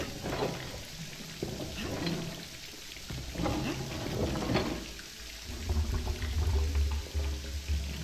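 Water gushes through pipes after a valve is turned in the horror game Resident Evil 7, a continuous pouring rush with a deeper rumbling flow building toward the end.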